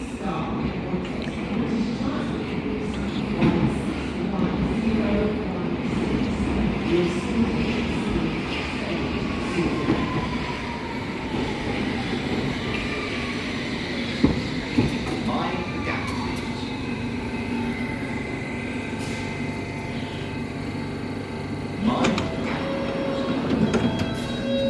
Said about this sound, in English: we're going to get on that train to Finchley Road